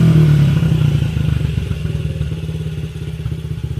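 A Honda CRF50 mini dirt bike with a freshly rebuilt carburetor idles close by, a loud, rapid, even putter that settles after a brief higher rev at the start.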